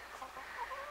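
Soft clucking of a chicken, a few short murmured calls close by over a quiet background hiss.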